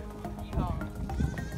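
Sheep bleat among a herd kept by Mongolian goat herders, several wavering calls overlapping with a busy background of animals and people talking nearby.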